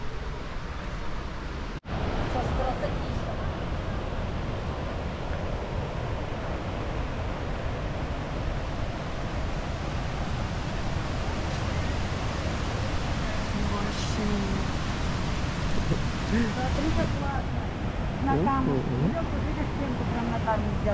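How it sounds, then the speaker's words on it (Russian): Waterfall at Linville Falls in Pisgah National Forest, North Carolina, gives a steady broadband roar that fills the scene continuously, with people talking faintly over the rushing water. "Так водопад вот он."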